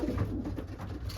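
Racing pigeon cooing softly, low murmuring coos repeating steadily through a short moment outdoors near a loft wire.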